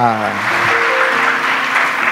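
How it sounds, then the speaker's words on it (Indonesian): Applause from a church congregation at a youth worship night, a steady wash of clapping over sustained tones from instruments or voices that carry through the hall. "Kasih tepuk tangan dong buat Tuhan kita."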